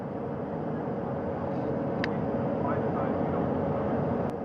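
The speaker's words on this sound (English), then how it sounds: "Helicopter 1 again hovering 40 feet" Steady, heavy rotor and engine drone of a helicopter hovering 40 feet above the sea during astronaut recovery fills the clip, constant and loud, with faint voices mixed underneath.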